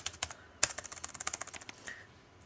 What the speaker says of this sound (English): I can easily type the way I do, blah blah blah blah blah blah. I'll just type in something.